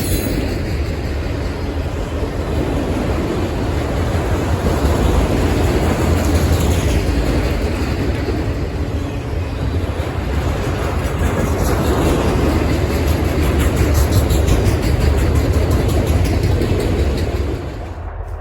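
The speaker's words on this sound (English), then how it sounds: "This train comes from Oak Island, New Jersey, and makes its way all the way along the Chicago line" A freight train on the CSX Chicago line in Northwood, Ohio, rumbles past up close, a loud continuous roar of rolling wagons with wheel clatter and a thin squeal running over the top throughout.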